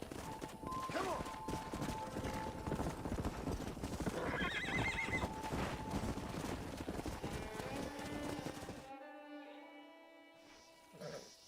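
Steady clip-clop of hooves with repeated horse whinnies and neighs from a stallion in the video game Red Dead Redemption, busy and close, before the hoofbeats cut out into a quieter tonal hum.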